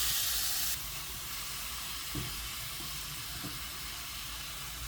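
Meat sizzling in a hot pan over high heat for zucchini roll-ups, a steady broadband hiss with a few faint clicks and pops, fairly quiet and without talk.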